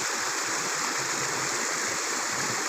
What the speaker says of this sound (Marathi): हा मॅनमेड झरा नाही आहे नॅचरल वॉटर आहे